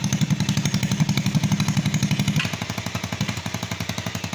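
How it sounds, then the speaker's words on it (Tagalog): A motorcycle with a broken exhaust pipe runs close by, throwing out a loud, rapid, rattling putter of evenly spaced pulses whose tone drops slightly partway through. "biglang nag-iba yung tunog ng tambucho natin."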